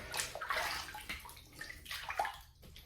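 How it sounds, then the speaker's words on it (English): Water splashes and sloshes close by as a face is wetted before a wet shave, with a few irregular bursts and drips over about three seconds and no talking. "let's get into the shave and wet the face here."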